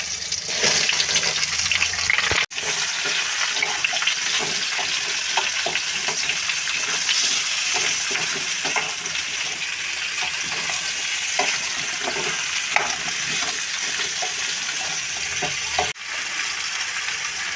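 Mango pieces sizzle loudly in hot oil in a kadai, a steady crackling hiss that holds throughout, with a couple of brief clinks from the pan.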